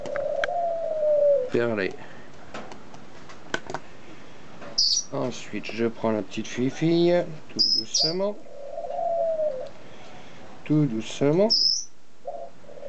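Laughing doves cooing close by, soft sustained coos heard between and under someone speaking French.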